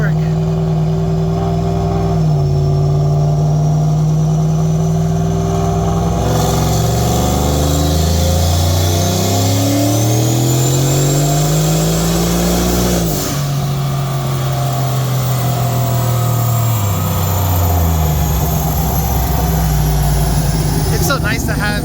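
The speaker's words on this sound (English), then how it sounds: "This could be the final dyno pulls of the PBH dyno" A faulty 2014 Ford GT500 engine revs on a dyno, loud and close: sustained harmonic engine drones sweep up through repeated pulls to a high-rev peak, drop back, and climb again, with a whine riding on top.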